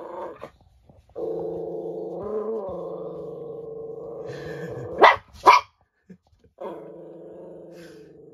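A border terrier reacts to its own mirror reflection indoors with drawn-out growling whines, broken by two sharp, loud barks close together near the middle, then more low growling.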